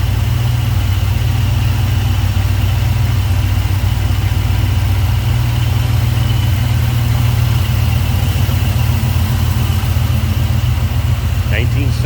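A 1976 Pontiac Trans Am with a 400 engine and EFI sits idling, a steady, loud, close rumble that continues evenly throughout.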